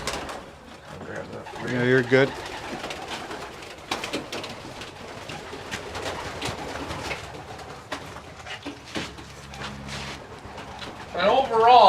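Pigeons coo in soft, rolling calls a few times against a busy loft background, while people talk over them.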